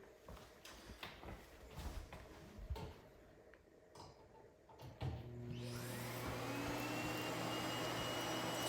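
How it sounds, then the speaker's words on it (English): A Miele Complete C3 vacuum cleaner switches on indoors after some quiet handling noises, rising into a steady, loud motor whine and airflow roar that holds to the end. "I'm going to pick it up with the vacuum."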